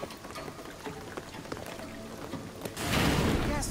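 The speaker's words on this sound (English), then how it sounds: "What I'm telling you is the rain is gonna flood the town." Steady rain falls in the Shadow of the Tomb Raider video game, a soft patter that swells abruptly into a loud, dense downpour near the end, with a faint voice in the background.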